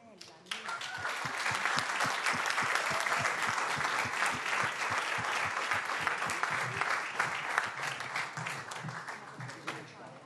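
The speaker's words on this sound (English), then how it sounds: "give them a big round of applause" A press conference audience applauds the America's Cup sailing teams at the Puig Women's America's Cup, with dense, steady clapping running throughout at close range and some voices mixed in.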